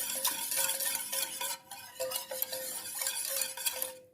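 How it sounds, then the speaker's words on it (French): Whisk or spatula stirring smooth, glossy chocolate batter for a Cluizel chocolate lava cake, quick scraping strokes and light clinks against a bowl, close and fairly quiet, with no talking. "Alors, on mélange, comme on peut voir, qu'il soit bien lisse, bien brillant."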